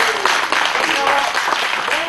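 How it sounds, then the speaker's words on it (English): Crowd applause for the winner of a Lotus Cup Europe production-class race at Zandvoort circuit, a broad steady wash of clapping under a loud announcer's voice throughout. "a round of applause for your winner of production class here at Zandvoort"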